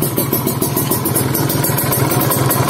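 A Kawasaki Ninja RR two-stroke idles steadily at about 1000 RPM on a PWK 28 carburetor, a close, loud, even putter with rhythmic pulsing and light mechanical clatter.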